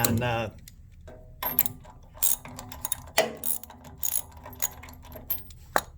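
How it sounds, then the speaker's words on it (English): Ratchet wrench working tightly fastened nuts on an HS sport unit, giving bursts of rapid clicking with pauses between, close and moderately loud, with some handling noise. "So to me, I just use a ratchet."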